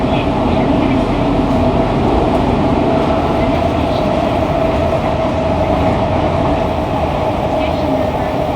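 Fukuoka City Subway 2000 series train with Hitachi GTO-VVVF traction, fitted with a circuit breaker and noted for an odd noise, running underground with a steady, loud roar of wheels and motor and a faint tonal whine throughout.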